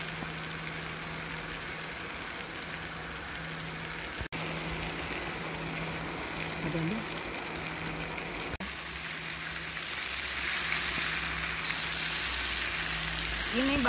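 Potatoes, green beans and green chili stir-frying in a pan, a steady close sizzle running throughout with a faint hum beneath.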